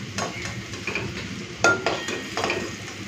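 Plantain fritters frying in hot oil, a steady soft sizzle with a few sharper stirring or utensil scrapes over about three seconds, close by and moderately loud, no talking.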